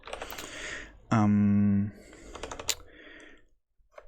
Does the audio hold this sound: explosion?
no